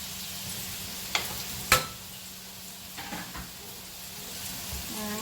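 Cranberries and peppers stirred in a hot pan, a steady close sizzle with a few sharp scrapes and knocks of the spoon against the pan, no talking.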